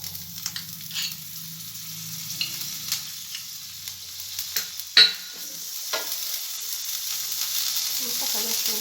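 A spoonful of butter melting in a hot pan, a soft, faint sizzle with light scraping and stirring, a sharp clink midway, and the frying swelling slightly louder near the end.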